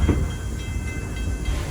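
A tourist train runs on a railroad near a craft village, giving a steady low rumble with faint hiss and rail noise throughout, loud and continuous with no talk.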